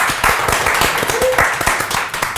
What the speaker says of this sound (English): Round of applause, go on everyone